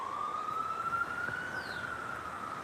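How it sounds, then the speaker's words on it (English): An ambulance siren wails steadily in the distance in New York City, its tone slowly rising and then falling away, over a low hum of city traffic. "you got an ambulance going by now"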